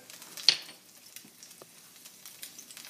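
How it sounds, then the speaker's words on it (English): Garlic and black pepper sizzle in hot oil for a stir-fried beef dish: a soft, steady crackle with one brighter spatter burst early, staying fairly faint throughout. "we're just going to add a little oil. The remaining garlic, the black pepper."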